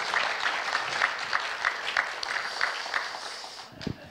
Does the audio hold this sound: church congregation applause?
yes